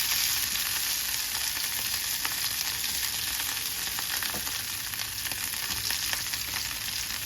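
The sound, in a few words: cumin, mustard seeds and chana dal frying in hot oil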